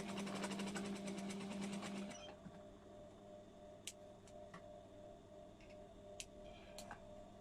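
A sewing machine stitches quilt pieces in a rapid steady whirring run for about two seconds, then stops, leaving quiet hum with scattered small clicks and taps.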